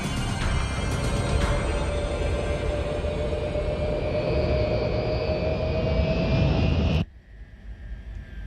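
Spacecraft thrusters in a sci-fi action film roar in a loud, sustained jet-like wash with a rising whine. The sound cuts off abruptly near the end, leaving a quieter hum.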